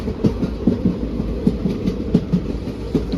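A passenger train on the Hyderabad to Nizamabad line crosses points while changing tracks near a station, heard from on board as rhythmic clickety-clack wheel knocks over a steady low rumble.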